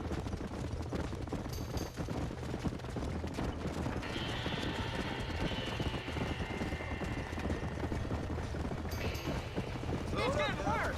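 Horses whinnying and stamping in a burning barn in the video game Red Dead Redemption, amid loud crackling fire and commotion, with shouting voices and a dense roar throughout.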